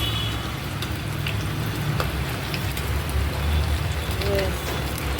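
Chili garlic potatoes fry in a pan with a steady, even sizzle and hiss that runs unbroken throughout, close and fairly loud, with faint scattered pops on top.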